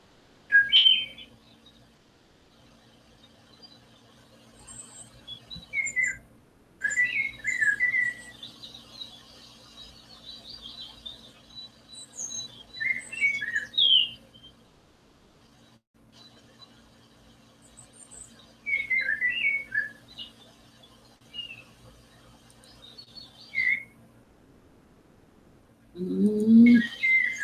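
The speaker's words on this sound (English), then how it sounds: "Even the little birds are happy about sobriety." Small birds chirp and trill in short bursts spread across a quiet outdoor scene near a waterfall. The calls are fairly distant and separated by pauses, with no talking.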